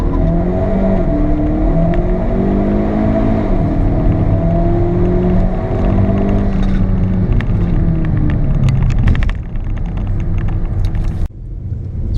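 A Hyundai Veloster fitted with an aftermarket intake and exhaust pulls hard from 0 to 60, engine note rising through several gears with brief dips at each shift, loud and close, then cutting off sharply near the end.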